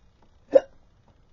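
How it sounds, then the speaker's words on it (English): A single short, sharp hiccup from a person, close and clear against near silence. "I get the hiccups when I'm really hungry"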